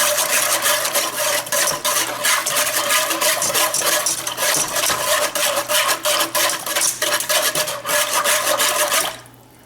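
Shrimp are stirred in a lemon garlic cream sauce, a spoon scraping and swishing through the pan in quick continuous strokes with a wet sizzle underneath, close and steady until it stops abruptly near the end.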